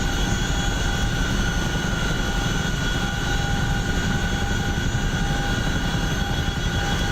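Inside a Chinook helicopter in the DCS World flight simulator, the engines and rotors give a loud, constant droning roar with steady tonal whine, unbroken and with no speech.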